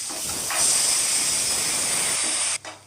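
Onions sautéing in hot oil for a butter beans masala give off a loud, close, continuous hiss of frying that swells slightly, then cuts off abruptly near the end, followed by a brief quieter burst. No one speaks.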